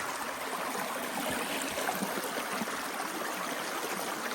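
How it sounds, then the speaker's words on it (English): A small woodland brook flows steadily over rocks, a continuous close rushing and babbling with no voices. "Pretty cool little brook"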